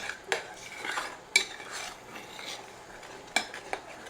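Coca-Cola cake icing mixture with cocoa stirred in a pot, with a handful of sharp utensil clinks against the pot over soft scraping, close and fairly quiet, with no talk.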